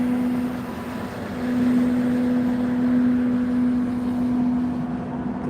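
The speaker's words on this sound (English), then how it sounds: "the background noise courtesy of the parking lot cleaning truck" A parking lot cleaning truck runs steadily nearby on a Friday night outside The Sphere in Las Vegas, a continuous engine drone with a sustained hum, moderately loud and unbroken, with no talk.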